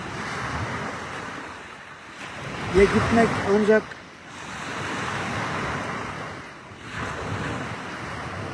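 Rough surf on a Northern Cyprus beach surges and crashes in broad swells on a stormy day with wind buffeting, and a voice speaks briefly over the roar.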